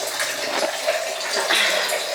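Water runs steadily from a tap into a container in a home kitchen, a close gushing splash that continues throughout with no speech.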